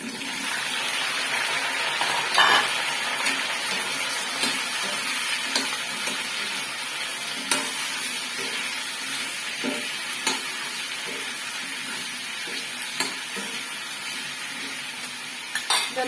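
Chopped brinjal and okra sizzle steadily in hot oil with mustard seeds, with frequent scraping and clinking of a spoon stirring the pan throughout, no talking.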